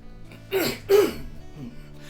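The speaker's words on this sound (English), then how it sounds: "I still cough a lot. I can't get rid of that cough." Two short, throaty coughs in quick succession, close and fairly loud, followed by a fainter third sound.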